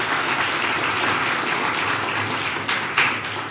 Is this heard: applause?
yes